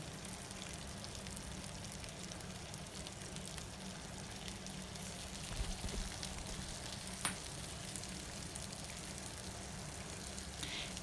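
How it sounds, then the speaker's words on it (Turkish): Salmon fillets fry in a pan with a spoonful of butter added over them, giving a soft, steady sizzle with small crackles throughout. "Şimdi lezzet vermesi bakımından bir tatlı kaşığı kadar tereyağını somonların üzerinde gezdiriyorum."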